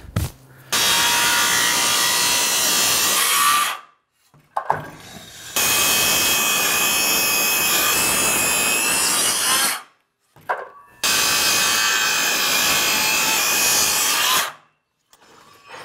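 DeWalt brushed power saw cutting through wood in three long passes, each a loud, sustained rasping bite of several seconds, separated by short near-silent pauses with brief clicks as the blade restarts.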